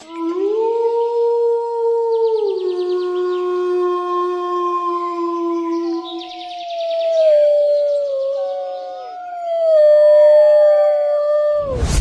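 A cartoon parrot mimics a female fox's call: long, loud, wavering howls with sliding pitch fill the clip without a break, stepping down and rising again, ending in a sharp burst.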